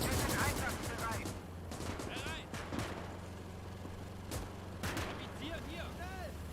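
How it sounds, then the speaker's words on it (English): Mortar blasts and gunfire rattle in the WWII strategy game Gates of Hell, sharp shots and bursts popping repeatedly at mid distance over a low rumbling battle bed, with voices talking throughout. "Look at how many troops they've lost from the mortar."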